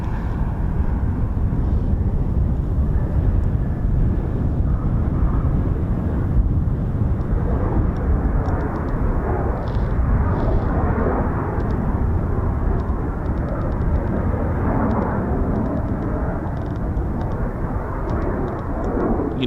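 F-35B stealth fighter jets of 809 Naval Air Squadron and 617 and 207 Squadrons, RAF, giving a loud, steady, broadband roar that rumbles on unbroken with no talk.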